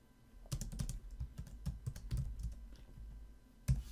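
Quick, close clatter of keys on a computer keyboard as code is typed, uneven bursts of taps over a few seconds ending in one sharper keystroke, faint and without talk.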